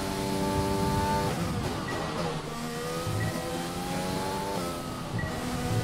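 Formula 1 race car engine in the F1 2020 video game revving continuously at high pitch, with steady harmonic whine rising and falling through gear changes, loud and close, no talk.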